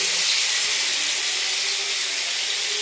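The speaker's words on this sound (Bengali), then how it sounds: "দেখো এটা আমার গরম হয়ে গেছে, আমি এবার পনিরটাকে ছেড়ে দিলাম।" Paneer pieces fry in hot butter and oil, making a loud, steady, close sizzling hiss that holds evenly throughout with no talk.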